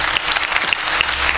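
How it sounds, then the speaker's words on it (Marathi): An audience at a Warkari kirtan during an akhand harinam saptah in Shingave breaks into close, loud applause, with dense clapping that continues steadily to the end. "टाळ्या वाजा"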